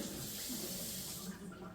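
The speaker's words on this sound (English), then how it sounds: "And then you just add some water." A tap runs steadily for a moment, adding water to a powder to make a paste like pancake batter; a continuous, fairly quiet hissing flow with no voices.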